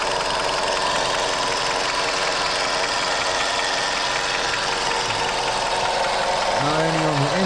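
A 2.0L engine in a 2010–2013 Kia Forte idles steadily and close up with a constant hum, and a faint whine from the AC compressor sits above it. A voice can be heard briefly near the end.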